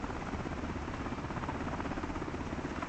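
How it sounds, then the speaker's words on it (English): A helicopter comes in to land in front of a hangar, its rotor producing a steady, dense thudding whir throughout, close and constant with no talk. "I'm going to land this helicopter exactly where the president's helicopter was."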